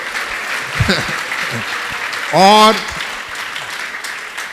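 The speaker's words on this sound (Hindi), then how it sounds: "तालियां तालियां तालियां।" An audience at a Jain monk's question-and-answer gathering claps steadily throughout, a moderate continuous patter, while a voice speaks briefly and another calls out loudly partway through.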